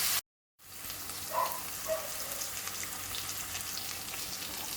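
Onions softening in a pan, salted, give a steady low sizzle and frying hiss, fairly quiet and continuous, with a couple of faint clinks and no talking.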